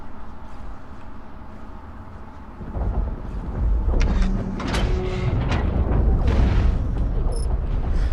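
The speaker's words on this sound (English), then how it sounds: "they're firing freaking missiles at us right now" Missiles fire and explode in the mech combat video game Hawken: deep, rumbling booms that swell and overlap, with a few sharp metallic cracks on top and a continuous roar beneath.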